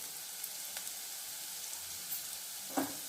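Onions frying in a pan with ginger-garlic paste just added, a steady soft sizzle running throughout with a faint stir or clink near the end, no voices.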